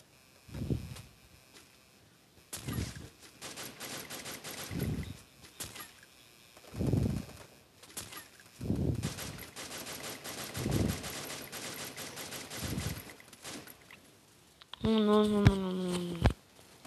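Gunfire in a shooting video game: bursts of automatic shots repeat across the clip and alternate with short thumping impacts, followed at the end by a brief tonal sound.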